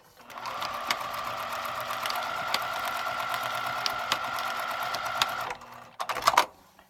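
A sewing machine runs steadily for about five seconds, stitching fabric onto a paper foundation for foundation paper piecing, with a high whine over a low hum, then stops and a few short clicks and rustles follow.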